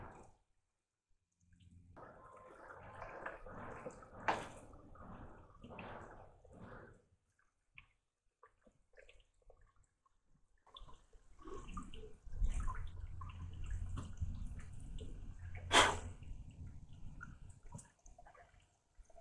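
Water running into a drilled well casing to keep head pressure on the hole, a faint intermittent trickle and gurgle, quiet and close, with sparse handling sounds.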